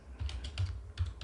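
Close, soft keystrokes on a computer keyboard come in a short irregular burst of about five taps, with no talking.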